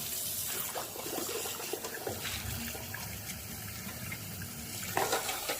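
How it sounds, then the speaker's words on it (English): Cold water runs from a kitchen sink tap into a pot, a soft continuous splashing and trickling with a few small clinks, ending in a brief louder gush. "turn on the cold water"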